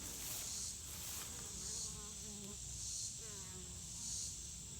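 Honeybees buzzing around the entrance of a busy Langstroth hive, a steady close drone of many wings with individual bees whining past the microphone, faint overall and without speech.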